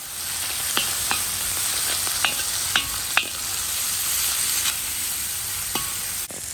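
Chopped onion frying in oil in a kazan, a steady loud sizzle with occasional scrapes and clinks of stirring close by, no one speaking.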